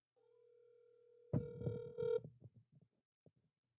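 A steady tone gives way to a telephone's electronic ring for an incoming call, a short buzzing burst followed by a few scattered clicks and taps, fairly quiet and without speech.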